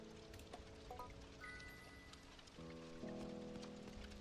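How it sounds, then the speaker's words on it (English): Acid rain patters steadily in the video game Doloc Town, a faint even hiss of drops under soft, sustained game music tones that shift partway through. "Acid rain incoming."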